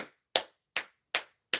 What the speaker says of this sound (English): Clap it up for Sunny.